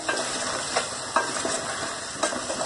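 Ground spice masala with garam masala and coriander powder sizzles in a pan for aloo gosht, a close, steady frying hiss broken by several soft scraping knocks of a spoon stirring.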